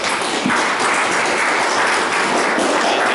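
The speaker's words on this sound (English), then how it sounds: "I know you're clapping for her generosity and the work that they do here" An audience at a talk on the Chinese in Montana claps steadily, a dense even wash of applause from many hands held at one level throughout.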